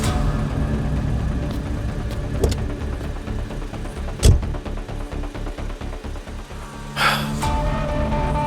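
Car engine idling and running in a pulsing low rumble throughout, with a sharp thump partway through and a short hiss near the end, no clear speech over it.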